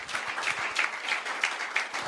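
A church congregation in Kuwait claps loudly and briskly in praise, a dense, even rattle of many hands with small rhythmic surges and no talking over it.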